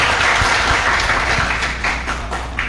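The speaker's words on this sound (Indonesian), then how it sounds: "Tepuk tangan." An audience at a national-insight oration held with students of Universitas Islam Jember claps in a dense, steady round, loud and close for nearly three seconds, with a slight fade toward the end.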